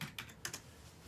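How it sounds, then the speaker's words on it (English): Close, crisp taps on a computer keyboard come in a few separate clusters over about a second, with no voices. "Yeah, I just typed that."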